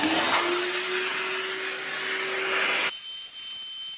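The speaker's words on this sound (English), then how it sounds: "First thing I'll do is clean it out in my shop vac which is loud." A shop vacuum cleaning out a keyboard roars loudly with a steady whine, then its pitch and noise drop suddenly near the end as the motor changes.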